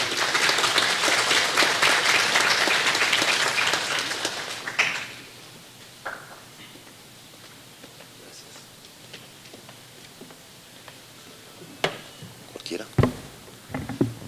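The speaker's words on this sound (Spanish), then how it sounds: "Recibamos con aplauso al periodista Juan Carlos Calderón." A burst of applause from a gathered audience welcoming a journalist at a speaking event fills the first few seconds, then fades to a quiet room with a few scattered knocks and shuffles.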